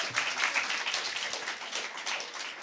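An audience at a bank-sponsored impromptu speaking competition claps in a steady, dense round of applause, a full wash of many hands at moderate volume with no speech over it.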